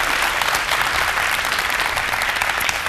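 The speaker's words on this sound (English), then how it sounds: "A round of applause for our judges." Dense, sustained applause from an audience honouring the judges at a South African leadership contest, loud and continuous without a break.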